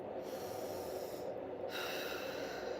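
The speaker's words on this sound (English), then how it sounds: "Take deep breaths" Deep, slow breathing during a guided relaxation exercise: a steady, close, airy rush of breath that continues through the whole moment with no talking.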